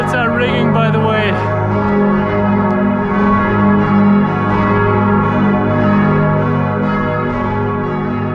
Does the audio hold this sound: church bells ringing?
yes